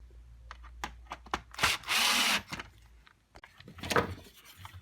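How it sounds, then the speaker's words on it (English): Screws being tightened on a Dyson DC25 vacuum during a refurbishment: quiet close clicks and scrapes, with a short whirring burst from a driver and a couple of fainter rubbing sounds. "tightening it up tight, so I'll do the remaining screws."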